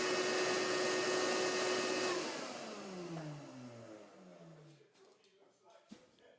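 A power tool cuts glued-up wood pieces in half for a wine bottle holder, its motor roaring loudly and steadily before winding down with a falling pitch into quieter shop noise.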